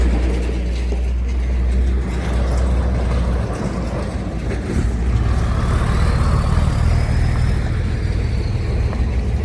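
A vehicle rumbles along a dusty dirt road in Laos, a continuous low engine and rolling tyre noise with rattling and bumps throughout, no talk.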